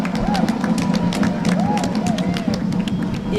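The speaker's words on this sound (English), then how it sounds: "let's give a huge round of applause." A crowd at a university graduation ceremony applauding with scattered cheers and whistles, steady clapping over a noisy babble of voices throughout.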